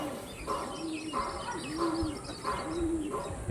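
Pigeons of the Andhra and Chennai Blood breeds cooing in a soft, repeating rhythm of low burbling calls, about four coos spaced evenly, close by, with faint chirps and background hum.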